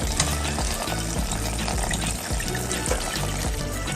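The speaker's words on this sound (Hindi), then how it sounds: "ये देखिए कि हम पास्ता को हम इस बर्तन में निकालेंगे।" Boiled pasta and its cooking water pour into another vessel with a loud, steady, continuous rush that lasts throughout, with no voices over it.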